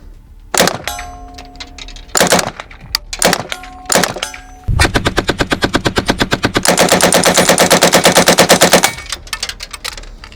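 An MP40 submachine gun firing outdoors, first a few short bursts separated by pauses, then a long rapid string of sharp shots, very loud and close, with metallic ringing between bursts.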